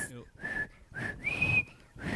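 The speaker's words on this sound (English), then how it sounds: "Are you trying to whistle?" Short, breathy whistled notes in a rising and falling pattern, four or five tones with brief gaps, close by and fairly quiet.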